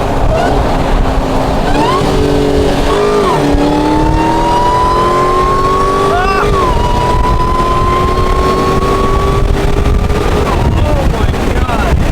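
A Dodge SRT Hellcat Redeye accelerates hard, its engine note climbing steadily through long rising pulls broken by quick gear shifts, loud and close from inside the car over heavy road and wind roar.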